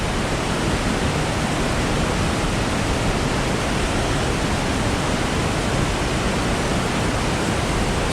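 Roaring waterfall at Ozone Falls in Tennessee, a dense, steady broadband rush of falling water that stays loud and unbroken throughout, with no voices.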